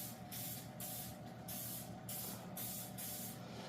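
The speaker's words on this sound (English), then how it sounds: "I'm just going to give these a quick spray. Just use a canola or a non-stick spray" Non-stick canola cooking spray is sprayed onto baking pans in several short, hissing bursts with brief gaps between them, close and fairly quiet.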